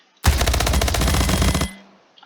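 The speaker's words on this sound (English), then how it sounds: "And as usual with an SMG, less damage, high rate of fire." Rapid SMG fire in the video game Splitgate: one dense, loud burst of about a second and a half of fast automatic shots, ending with a short ringing tail and no talk.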